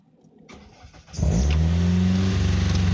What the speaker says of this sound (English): So I find out the lifter getting louder. Okay, the head's getting louder.